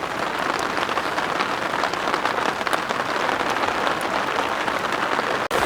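Food frying in oil outdoors during heavy rain at a forest campsite in Uttarakhand, a dense continuous crackling hiss that stays loud and even throughout.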